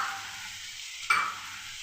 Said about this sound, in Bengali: একটুটা একটু ভালো করে নাড়াচাড়া করে নেব